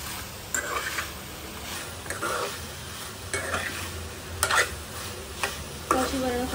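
Crispy soybean chilli is stirred and fried in a pan, with a steady sizzle broken by repeated scraping strokes of a spatula roughly every second, close and moderately loud with no talking.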